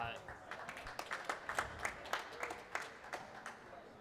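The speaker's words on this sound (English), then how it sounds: "Crowd giving Longoria a little love for that." A crowd at an indoor racquetball match in Atlanta applauds a quarterfinal rally, giving a modest, fairly faint burst of clapping with scattered claps standing out over steady murmur throughout.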